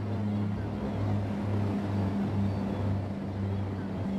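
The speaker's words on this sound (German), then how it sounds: "Ja, das sind Wasserflugzeuge" Seaplanes acting as anti-submarine bombers fly in the Empire Earth strategy game, a steady droning engine hum with pulsing tonal bands that runs continuously and fairly loud throughout.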